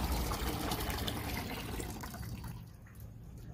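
Water drains off freshly washed crabs in a home kitchen, a steady broadband pouring and splashing that stays loud for most of the moment, then thins toward the end.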